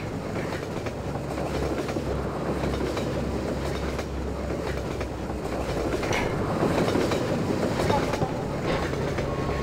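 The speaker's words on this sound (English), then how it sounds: "Incoming train!" Train passing in the video game Half-Life 2, a loud continuous rumble with rattling wheel clatter close by, with faint voices mixed in.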